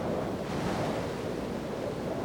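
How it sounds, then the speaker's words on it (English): Hurricane winds drive storm surge waves onto the shore, a dense, steady roar of surf and wind buffeting with no voices. "hurricane-force winds push the water onto the shore."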